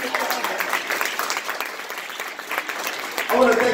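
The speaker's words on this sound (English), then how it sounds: "Please give her a nice round of applause for inviting me." An audience at a Black History Month event claps in a sustained, dense round of applause, with a voice briefly speaking near the end.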